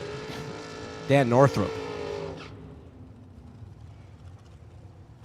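A Camaro and a dragster race down a drag strip, engines screaming loudly with sharply rising revs early on before the roar fades into distant rumble, while an announcer talks over the action.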